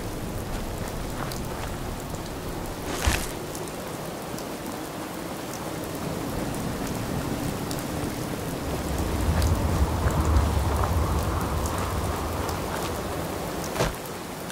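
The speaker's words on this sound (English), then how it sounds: "Spring sleet." Spring sleet and rain in an outdoor game world setting, a steady close hiss of falling precipitation with a few sharper impacts and a low rumble swelling midway.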